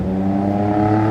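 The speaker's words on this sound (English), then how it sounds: "I want to get away from this traffic noise" Steady, loud street traffic in Chicago near Millennium Park, a continuous low engine rumble and drone of passing cars with no distinct events.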